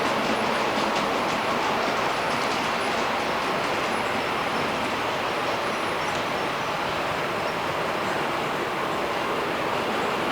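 A model railway locomotive with onboard sound runs steadily with a continuous rumbling, clattering rail sound and faint squeal, loud and unbroken throughout, no voices.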